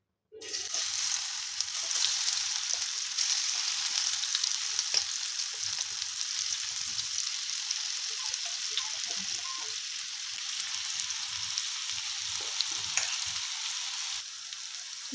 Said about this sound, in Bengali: এবারে মশলা মাখানো পটলগুলো ভাজার জন্য দিয়ে দেব